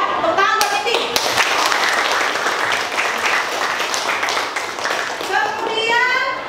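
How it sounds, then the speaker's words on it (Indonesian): A classroom of children claps together in dense, steady applause that runs the whole time, with excited young voices mixed in. "Tepuk tangan buat Nindi."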